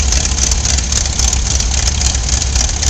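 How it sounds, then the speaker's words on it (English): The engine of a 1946 New Holland Model 76 hay baler idles in a field at a hay expo, a loud, steady, throaty rumble like a small V8, close by with no voices. "Sound like a little small block Chevrolet V8."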